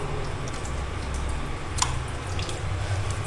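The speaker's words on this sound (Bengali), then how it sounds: "আমি আমার হাতটা একটু ধুয়ে নিচ্ছি।" Water running from a tap at a restaurant hand-washing station as hands are rinsed, a steady close hiss and splash with one brief drip-like click midway.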